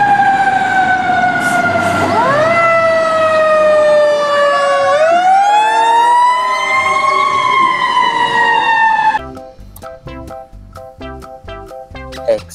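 A toy search and rescue team vehicle siren, a loud wailing tone sweeping down and up for several seconds, then giving way to a busier patterned electronic sound near the end.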